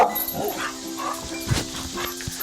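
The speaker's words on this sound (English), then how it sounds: "It's my dog." A dog barks outdoors on a hot 91-degree day, with a short, sharp bark standing out near the middle over a busy background of yips and rustling.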